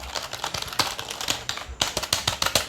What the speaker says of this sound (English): First of all, I'm going to show you the sound of the regular keyboard, which is not the mechanical keyboard.